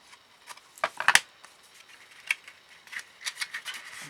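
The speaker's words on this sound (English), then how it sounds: "I can just come in with my scissors" Scissors snip through card while trimming the edge of a handmade wrapped gift box, a few crisp cuts close by, with light rubbing and handling sounds around them.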